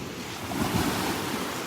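Surf rolls in at a Gulf beach at Delnor-Wiggins on an incoming tide, a soft, continuous wash of waves mixed with some wind noise, fairly faint.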